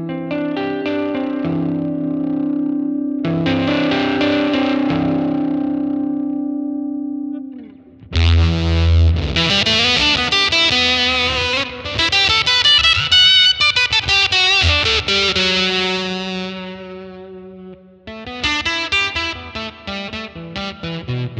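Electric guitar played through a fuzz pedal into a Universal Audio Unison interface plugin, loud and saturated, with sustained distorted chords and note runs separated by brief pauses, no talking.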